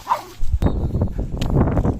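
A small female dog barks and yips repeatedly at close range during an outdoor walk, sharp bursts over a steady background, with no talk over it.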